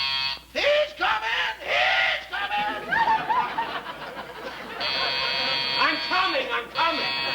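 A door buzzer sounds on a vintage radio comedy broadcast, a steady electric drone lasting a few seconds amid studio audience laughter and talking voices.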